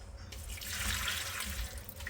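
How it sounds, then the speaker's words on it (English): Hot water pours into a refrigerator drain, a soft continuous trickle and splash that stays faint and steady throughout. "I'm gonna add hot water"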